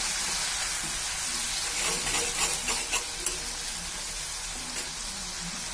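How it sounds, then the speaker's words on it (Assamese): Onions cook with egg in a hot pan, giving a steady close sizzle and fry for several seconds while a utensil stirs and scrapes through them in irregular bursts. No talking. "ডিমৰ লগত এতিয়া পিঁয়াজখিনি ধুনীয়াকৈ সিজি যাব"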